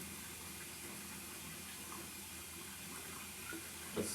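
Tap water runs steadily into a cooking pot, a constant hissing gush at even volume from start to finish, ending with a brief clink near the close.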